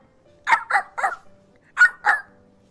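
A person mimics a big dog with their voice, giving five loud, gruff bark-like bursts in two quick groups, close and alone with no other talk.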